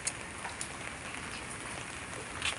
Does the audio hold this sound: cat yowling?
no